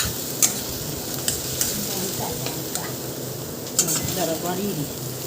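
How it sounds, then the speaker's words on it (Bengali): Onion and garlic paste frying in hot oil for a prawn malai curry, a steady close sizzle broken by a few sharp clinks and scrapes of stirring in the pan. "পেঁয়াজ রসুনটা একটু ব্রাউন কালার আসবে তেলে ভাজা পর, যতক্ষণ না ব্রাউন কালার আসে ততক্ষণ ভাজবো।"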